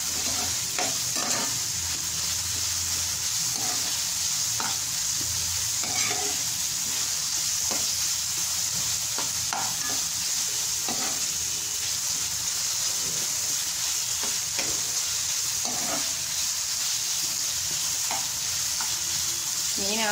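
Onions sautéing in oil in a pan for a Kerala fish curry, a steady close sizzle and hiss with frequent scraping, stirring knocks throughout, and no talking.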